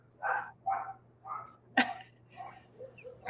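Nine-week-old Great Pyrenees livestock guardian puppies bark in a quick series of short, mid-pitched yaps with gaps between them, followed by a sharper sound and softer barks close by.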